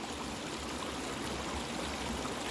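A small creek tumbles along beside an old service road on its way into Blue River Reservoir, a steady close rush of flowing water with a continuous gurgling, bubbly texture and no voices.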